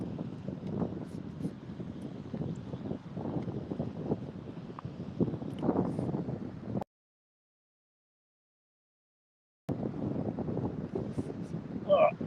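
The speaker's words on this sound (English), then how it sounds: "It's a little bit windy up" Steady gusty wind rumbling and buffeting the microphone outdoors, cut by a brief stretch of silence before resuming.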